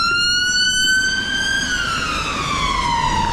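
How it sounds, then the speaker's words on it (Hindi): Ambulance siren on a London road, a loud steady wail with a falling pitch as the vehicle passes close by, over constant traffic rumble. "ऐसे एम्बुलेंस आती है ना भाई जब तो सभी रोड खाली हो जाते हैं"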